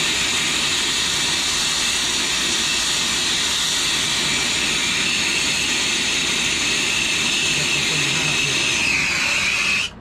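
A small fan runs at an LG heat pump refrigerant leak repair, giving a loud, steady broadband whoosh that holds for about ten seconds and then cuts off abruptly at the end.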